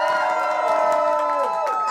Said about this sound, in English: Give Charity Stills a big round of applause.